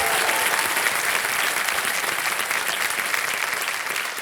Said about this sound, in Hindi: जोरदार तालियां अंजलि जी के लिए